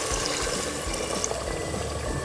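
Hot water is poured from a plate into Agri-style red dal mundi, a continuous close splashing gush lasting a couple of seconds with no talking.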